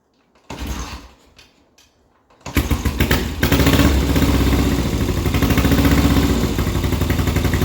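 A 1972 Triumph 650 Bonneville with one cylinder not firing cranks with a short sputter, falls quiet, then catches and runs loud and close with an uneven, rough idle throb.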